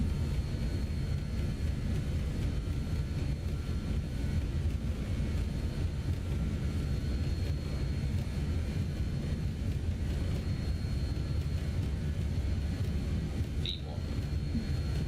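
Airliner jet engines spool at takeoff power during the roll of a BAe 146 or Boeing 737-800 in Microsoft Flight Simulator 2020, a steady broad roar with deep low rumble that holds loud and constant throughout.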